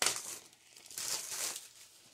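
Plastic wrapping crinkles loudly as a Paper Pumpkin craft kit package is opened by hand, two close bursts of rustling with a brief lull between.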